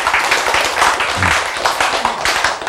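Audience applause during a Korean lecture, a dense, steady patter of many hands that lasts the whole stretch at fairly close range, with no voices over it.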